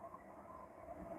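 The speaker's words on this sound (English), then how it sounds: "Excuse the train behind me." A train rolls past behind a parking lot as a steady, continuous rumble and rush that holds at an even level throughout, with no voices over it.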